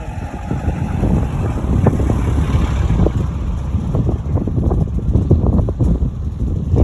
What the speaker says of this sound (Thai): ลมแรงมากเลยอะ่ะ